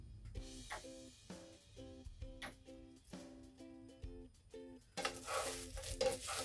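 Kelp stirred in cooking oil in a pan gives rhythmic scraping and clacking strokes, about two per second, over a faint sizzle. A louder burst of frying crackle swells near the end.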